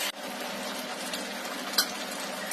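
Beef for bhuna khichuri fries in a pan with a continuous sizzle while it is stirred. A spoon scrapes and clinks against the pan now and then, including one brief sharper clink.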